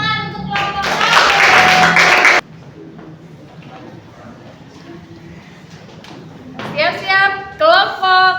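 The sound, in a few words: applause for group 1 in a classroom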